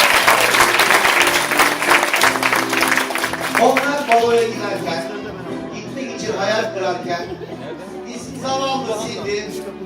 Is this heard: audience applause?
yes